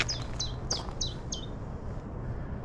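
A small bird sings five quick, bright chirps in an even rhythm, fairly close and clear over a soft outdoor background, then falls silent.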